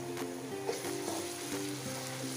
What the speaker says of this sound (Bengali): আমি 1 টেবিল চামচ উঁচা করে আদা রসুনের পেস্ট দিয়ে দিলাম।